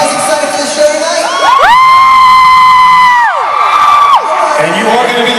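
A large concert crowd at a sound check cheers loudly, with high sustained whoops and screams swelling through the middle and then fading into general crowd noise.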